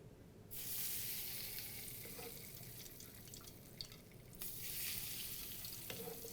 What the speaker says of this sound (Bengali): এবার এখানে দিয়ে দিব এই গরম তেলটা